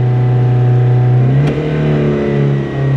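The engine of a 1987 Nissan Be-1 stays revved high and will not idle down, a loud, close, steady drone with a slight pitch shift partway through.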